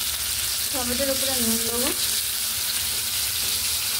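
Tomato and a little sugar fry in mustard oil with a loud, continuous sizzle and some stirring. A voice speaks briefly over the frying.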